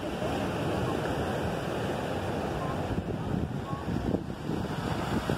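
Waves wash steadily onto a Puerto Rico beach near lighthouse ruins, a continuous broad rushing surf with gusty wind noise over the microphone and faint swells in intensity.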